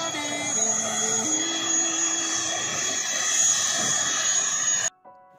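Airplane engines drone loudly and steadily as passengers board a flight bound for Hasanuddin Airport in Makassar, a constant whine and hum that cuts off abruptly near the end.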